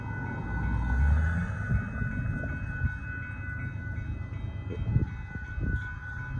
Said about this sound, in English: Here comes the northbound KCSM starting to make a mix rate with Grey Guns, UPAs, and 1111 coming northbound.